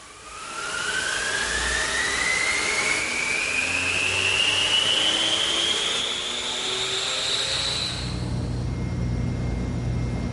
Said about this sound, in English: If you have one, an air mover can speed up the process.